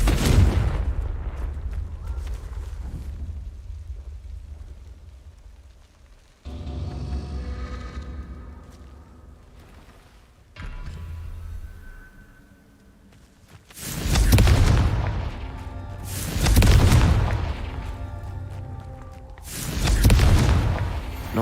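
Confringo fire spells in Hogwarts Legacy go off as a run of heavy booming blasts, with a rumbling stretch early on and then three loud, close explosions in quick succession near the end.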